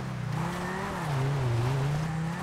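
A 1998 Toyota Supra MK4 engine in Grand Theft Auto V, droning steadily with a rising and falling pitch as the car accelerates and eases off, loud and close with no talk over it.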